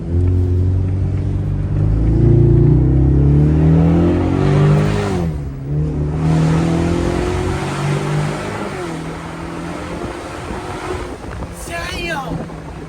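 A 2024 Mustang EcoBoost Premium with stock exhaust pulls hard under acceleration, a loud rising drone with gear changes, heavy wind rush buffeting the microphone throughout.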